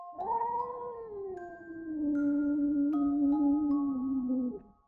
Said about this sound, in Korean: 고양이 소리가 들려왔죠.